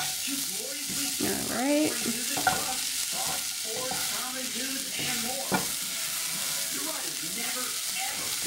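Crispy tofu for a rice stir fry being flipped and stir-fried in a hot pan, giving close sizzling with scraping and tossing bursts while someone talks briefly over it.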